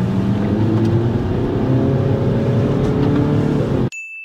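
A car engine hums and revs steadily at close range during a driving test as the driver gives it gas through a gear change, then the sound cuts off abruptly near the end.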